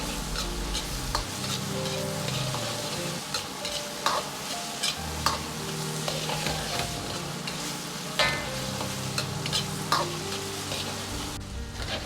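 Diced eggplant sizzles steadily in a wok with soybean paste while a spatula scrapes and tosses it in repeated strokes, close and continuous for the whole stretch, with no voices.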